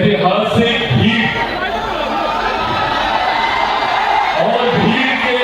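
A huge crowd cheering at a political rally in Rajgir, Bihar, a dense roar of shouts and whoops that carries on continuously, with a loud amplified voice speaking over it.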